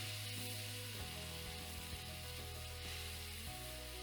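Vegetable stock hitting a hot pan after shrimp, with a steady close sizzle and bubbling frying noise that stays loud and continuous throughout, with no talk.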